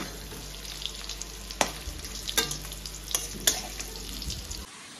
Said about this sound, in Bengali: তো দেখো এদিকে মাংসটা কষাচ্ছি, মশলা দিইনি এখনো